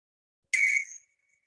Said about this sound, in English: it's actually one of our native owls